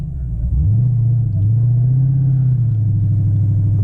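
A 2019 Dodge Challenger SRT Hellcat Redeye holds a deep, steady engine rumble close by. The pitch swells slightly early on, then settles into a constant loud drone for the rest of the clip.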